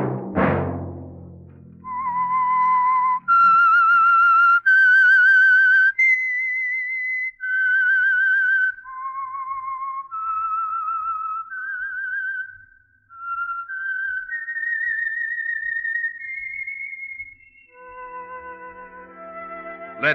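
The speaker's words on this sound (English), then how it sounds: "Let that whistle be your signal for the Signal Oil program, The Whistler" A lone whistler performs the eerie theme signal of The Whistler mystery radio program, a slow melody of clear sustained notes rising and falling, followed by a brief orchestral swell at the end.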